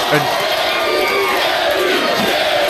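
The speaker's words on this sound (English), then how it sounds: "listen to the crowd now" A studio audience roars with cheering, whoops and shouts, a dense continuous crowd noise filling the whole stretch, with a voice talking over it.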